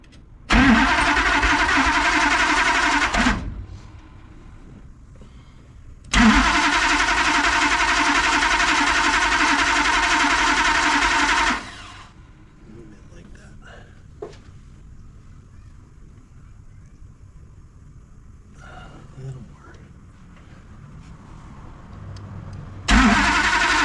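A 1969 Dodge Charger V8 cranks and fires up in loud bursts, with two long roaring runs separated by quiet gaps, faint clicks and tinkering in between, and another start at the end.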